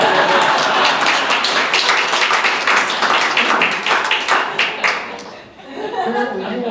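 Audience clapping at a live magic show, dense and steady for several seconds before briefly thinning and picking up again, with some laughter and chatter mixed in.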